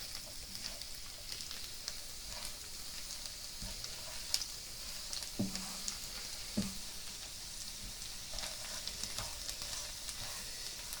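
Goan-style croquette mixture frying in a pan, a continuous close sizzle broken by several sharp scraping clicks of stirring, fairly quiet with no talk.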